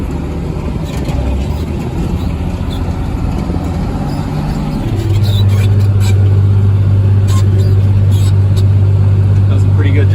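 A New Holland tractor pulls a soil saver tillage implement through a spring field in seventh gear at about 4.5 mph. Its loud, continuous engine drone swells and deepens midway and holds steady.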